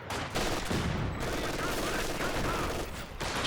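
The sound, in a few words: regular mortar firing in Company of Heroes 2 video game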